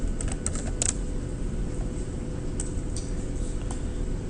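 Soft, scattered keystrokes tap out on a computer keyboard while entering a label into a spreadsheet cell, light clicks heard over a steady low background hum.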